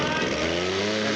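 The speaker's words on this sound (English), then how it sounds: "And the truck was banging real bad, Ralph." Monster truck engine at an indoor motorsports challenge in Indianapolis, a loud continuous rough roar with shifting pitch filling the brief moment, heard close.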